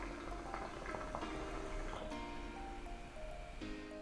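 Bubbling water gurgles steadily through a Moze Varity hookah, the smoke purged downward through a lowered blow-off at the tray, with dense continuous churning and a few brief higher bubbly bursts.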